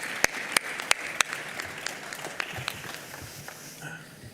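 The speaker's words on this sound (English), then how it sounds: "Let's give a round of applause for our panelists today" Audience applause for forum panelists at the end of a session at a photonics economic forum in Malaga, starting with a few sharp individual claps and then spreading into a moderate, steady patter of clapping that fades toward the end.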